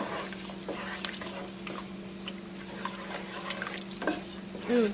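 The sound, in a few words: shrimp with Scotch bonnet pepper being stirred in a pan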